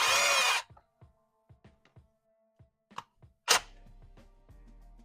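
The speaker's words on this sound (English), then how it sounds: "I can get my little impact down there" A small impact wrench works on exhaust header bolts for an LS stainless shorty header, giving a loud burst, then scattered clicks and taps, and a second short rattling burst.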